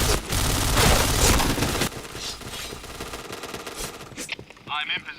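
Heavy automatic gunfire in the online shooter Point Blank, loud sustained bursts for the first couple of seconds, then scattered quieter shots and game effects, with a voice talking briefly near the end.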